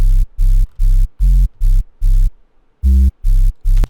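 A synthesized sub bass built from a sine wave with added noise and distortion, played as nine loud, evenly spaced pulses with a short gap before the last three, alone with no voices.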